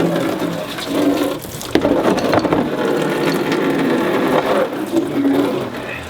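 Coolant pours and splashes steadily from the aluminum drain plug of a Mishimoto dual-core radiator on a turbo Mazda Miata, a continuous wet, gurgling rush with faint metallic clicks, close and fairly loud throughout.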